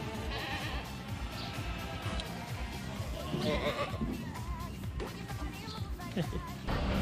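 Goats bleat on a large French goat farm, a busy mix of overlapping calls from many animals under steady barn noise, with people talking faintly in the background.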